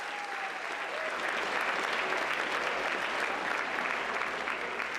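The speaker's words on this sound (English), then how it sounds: "Give her a round of applause" Audience applause at the White House Correspondents' Dinner, a sustained wash of clapping from a large crowd that swells after the first second and holds steady.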